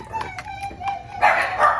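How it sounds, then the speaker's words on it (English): Puppies let out brief, high-pitched yips and barks in quick succession, moderately close, mixed with faint background voice sounds. "Oh boy, you hear my puppies."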